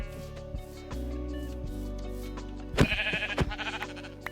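A sheep in the modded Minecraft pack Project Ozone 3 bleats in a sharp, wavering burst over steady game background music and ambience, with a few soft in-game clicks around it.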